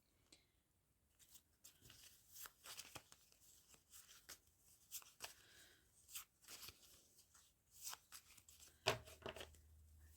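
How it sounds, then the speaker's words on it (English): A deck of playing cards roughly shuffled by hand, with irregular riffling, tapping and crinkling bursts spread across the clip, ending in a sharper snap. "It was a very rough shuffling job."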